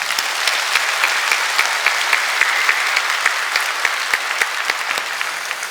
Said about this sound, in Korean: 우리 격려의 박수하도록 하겠습니다